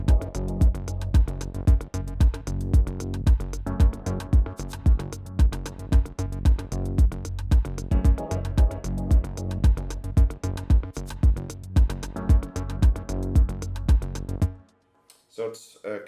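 A drum machine plays a steady looping beat with rim shot double hits from a scatter-function fill, punchy and loud for about fourteen seconds before stopping abruptly.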